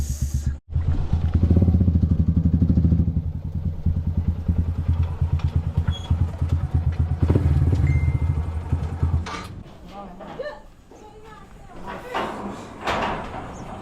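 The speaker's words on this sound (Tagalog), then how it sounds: "mainit na yung makina ni Mia." A warmed-up motorcycle engine idles with a rapid, chugging pulse for several seconds, then cuts off, leaving clattering and scattered voices nearby.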